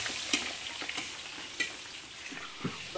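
Food frying in a pan gives off a bright, constant hiss with scattered crackles and pops, steady throughout, close and moderately loud, with no talking.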